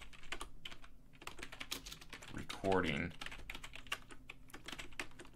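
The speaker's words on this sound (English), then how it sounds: "Whoops, typing like crazy." Rapid typing on a computer keyboard, a dense stream of close, sharp key clicks, with a brief spoken word breaking in partway through.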